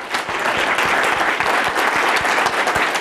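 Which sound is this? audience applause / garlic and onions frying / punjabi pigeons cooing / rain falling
audience applause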